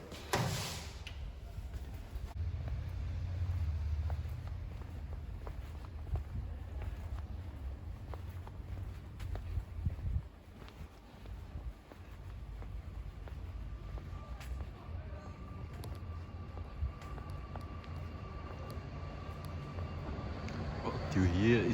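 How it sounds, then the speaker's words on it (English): Tram passing by on a street in Zurich, a steady low rumble with rattles and creaks that continues throughout, swelling again near the end. "What you hear is a tram going by."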